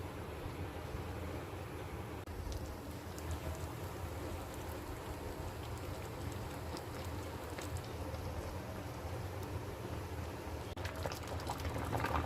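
Tomatoes simmer in a covered pot on a gas stove, making a faint, steady bubbling hiss that continues evenly throughout, with no talking.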